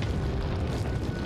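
A grenade explosion in a video game speedrun, a dense, loud rumbling blast that fills the whole short moment with sustained low boom and roar.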